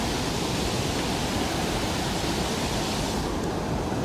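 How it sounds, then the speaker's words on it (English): Water pours over a dam, a loud and continuous broadband rush that holds steady and unbroken throughout, with no voices. "here's the waterfall, or dam,"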